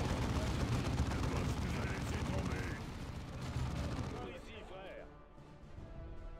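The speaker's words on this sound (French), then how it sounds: "Ah, la grenade de Tarkus, elle est plaisante, hein." Grenade blast and surrounding combat in the strategy game Dawn of War 2, a dense wash of rumbling explosions and crackling gunfire that fades somewhat toward the end, mixed at a fairly low level.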